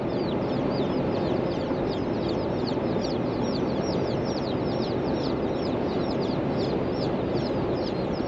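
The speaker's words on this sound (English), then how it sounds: "110 baby chicks in the back seat" A box of 110 baby chicks in a car's back seat chirps nonstop, dense overlapping high peeps over a constant low road rumble, close and loud with no talking.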